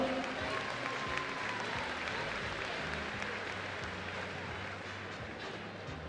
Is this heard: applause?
yes